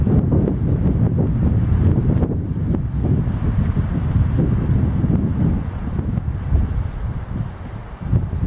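Strong wind roars and buffets the microphone continuously, a heavy low rumble with gusting surges and no voices.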